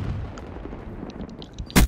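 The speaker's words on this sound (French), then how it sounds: "Grenade ennemie!" An enemy grenade goes off in Call of Duty Black Ops III: a single sharp, loud blast near the end, after a low rumble of distant shots and faint clicks.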